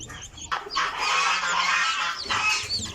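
A mother hen with her chicks gives steady, fairly loud, close clucking and cheeping that runs almost continuously for a few seconds with no voices.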